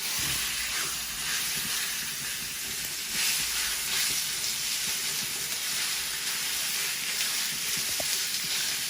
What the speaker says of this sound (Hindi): गर्म होने की निशानी यही है कि ये आवाज दे रहा है, इसका मतलब है कि मेरा पैन गर्म है।